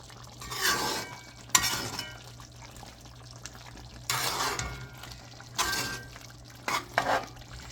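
Guyanese seim curry is stirred in a pot, giving several separate bursts of scraping and wet sizzling with quiet pauses between them, close and fairly soft.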